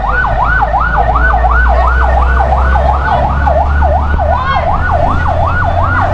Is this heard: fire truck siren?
yes